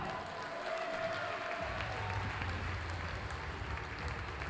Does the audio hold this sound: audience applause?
yes